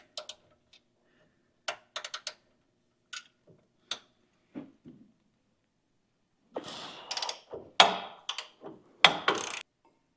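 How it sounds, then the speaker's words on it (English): A half-inch breaker bar works on a control arm bolt on a 2024 Chevrolet Silverado 1500, with isolated metallic ticks and clicks followed by a burst of ratcheting and scraping, close by with no talking. "I'm going to use a massive 1/2 inch with a breaker bar in order to break this"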